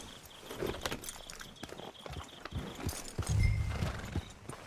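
Horses trotting in the video game Red Dead Redemption 2, a rhythmic run of hoof clip-clops at moderate volume with faint background ambience.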